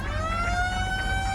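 An ambulance siren on an Oldsmobile in BeamNG wails loud and close, a steady electronic tone sliding slowly upward, with a low car rumble beneath it.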